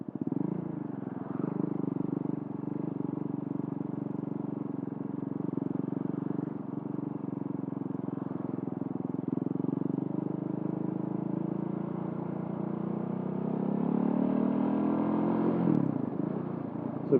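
A motorcycle with an aftermarket exhaust drones steadily at close range, a deep throaty rumble that swells and rises in pitch near the end.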